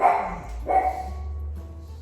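Two pugs guarding a yard bark at passersby, giving two sharp close barks about half a second apart followed by a quieter trailing yip over a low background hum.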